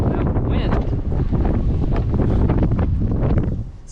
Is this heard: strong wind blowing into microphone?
yes